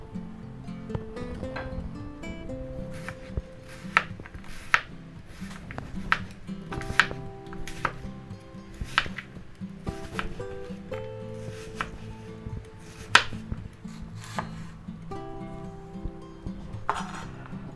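A large onion, only half of one, is sliced on a cutting board with a knife, giving a steady run of crisp, close chopping taps against the board, with faint clinks of kitchen utensils in the background and no talk.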